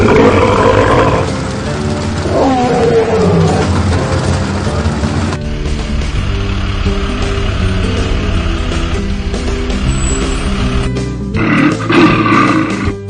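A toy tiger or lion from a set of animal cart toys gives a loud, continuous electronic roar with growling rises and falls, filling the whole clip at close range with no talking.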